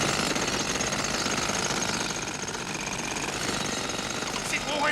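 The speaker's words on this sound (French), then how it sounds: "parce qu'il va en chier le Murphy, il est même démonté au marteau-piqueur par les méchants." A jackhammer pounds relentlessly as villains dismantle Robocop in the film Robocop 2, a dense, unbroken mechanical rattle that stays loud and harsh throughout.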